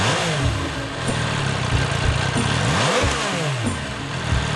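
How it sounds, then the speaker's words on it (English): A six-cylinder cafe racer motorcycle engine revs in repeated rising and falling sweeps, loud and close, with a steady deep growl beneath the blips. "Despite the stronger snoring in the 6-cylinder engine, it is not easy to tell the difference."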